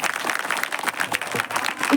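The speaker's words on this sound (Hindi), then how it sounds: "भाई मैं चाहूंगी कि जितना सुंदर दरबार लगा है उतनी सुंदर तालियां बजा दीजिए।" An audience at a devotional jagran bursts into loud, busy clapping: many hands hitting fast and unevenly close by, with no talk over it.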